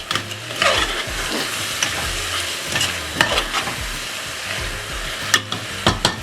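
Blended garlic and ginger sizzle steadily in a hot pan for a chicken curry, with a spoon stirring and scraping in several short bursts over a constant frying hiss.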